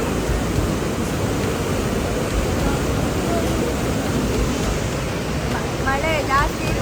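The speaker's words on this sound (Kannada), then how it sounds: "ನೋಡಿ ಹೇಗೆ ನೀರು ಬರ್ತಾ ಇದೆ ಅಂತ" Rainwater rushes and pours steadily around the Kateel temple during a downpour, a dense, continuous roar close by, with a faint voice rising briefly near the end.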